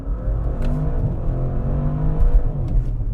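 A 2024 Audi RS6 Avant Performance accelerating, a steady deep engine roar with a rising tone heard from inside the car, loud and continuous.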